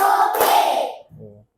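Fifth-grade primary school class clapping together on cue, a couple of quick unified claps blurring into a short burst, followed by a brief voice as it fades.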